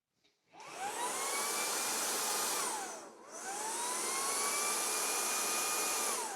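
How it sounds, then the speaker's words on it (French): A Jigoo V700 cordless vacuum docked on its dust emptying station runs a loud, steady suction whine, dipping briefly near the middle as the airflow shifts, then resuming at full strength until the end. "une fois qu'on va le poser sur la station de vidange de poussière, bah, normalement tout devrait être évacué"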